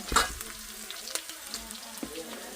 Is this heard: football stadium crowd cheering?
no